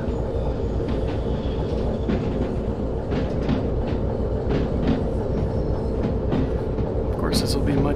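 A locomotive pulling rail wagons in the train simulator game Derail Valley, played in VR, gives a steady loud rumble with rhythmic clicking of wheels over track joints while someone talks over it.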